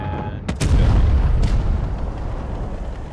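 A tank cannon fires once in World of Tanks Blitz, a sharp loud blast followed by a heavy rumbling boom that slowly fades beneath ongoing engine and battle noise.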